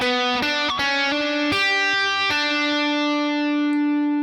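An electric guitar plays the riff from a song: a handful of clean, distinct picked notes in a steady phrase, the last one left ringing and slowly fading, with no talking.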